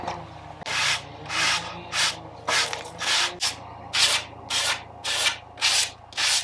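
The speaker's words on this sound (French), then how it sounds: "Un petit coup de ponçage." Power sanding on the floor structure of a DIY camper van conversion, heard as a rhythmic series of about ten near, loud abrasive rubbing strokes of roughly equal length, with no voices.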